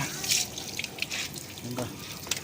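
Water runs steadily from a tap with a continuous hiss and splash, close by, with faint talk murmuring underneath.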